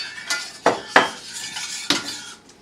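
A metal spoon stirs a mixture in a pot, scraping and clinking against the sides in a few sharp knocks spaced unevenly between softer swishing strokes, close and fairly loud with no talking.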